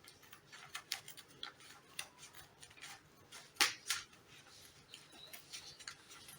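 Scissors snip through fabric while a top is cut out, giving faint, quiet clicks and short crisp snips in an irregular rhythm with one louder cut near the middle.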